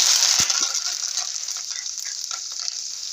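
Cumin, mustard seeds and curry leaves sizzle loudly in hot oil, a bright hissing crackle with a few sharp pops and a stirring clink near the start, then easing slightly.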